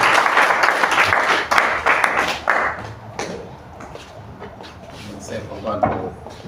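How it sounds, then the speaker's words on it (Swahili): Audience applause at a live evening event, a dense burst of clapping that fades over several seconds while a voice talks over it and a few scattered claps and thumps follow. "Tuwapigie makofi tena mara ya mwisho."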